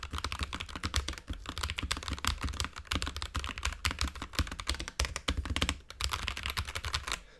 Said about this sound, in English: We're going to do a quick sound test of the keyboard behind it here.